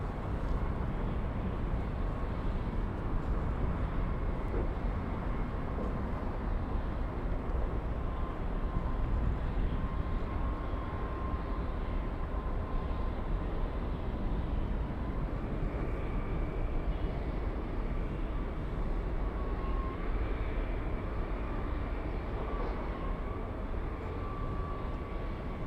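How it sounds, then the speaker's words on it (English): A Japanese Boeing 787 airliner crossing runway 24 left at Los Angeles International Airport, heard as a steady, broad engine rumble with a faint whine that holds evenly throughout at moderate distance, with no talk. "Let's go over to the Japanese 787 crossing"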